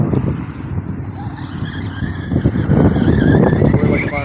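An Arrma Notorious RC car whines and skids across half-frozen grass, its motor buzzing loudly up close with rough scraping and tire slides that build toward the end.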